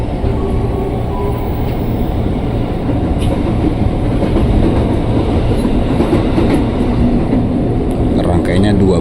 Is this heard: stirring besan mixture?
no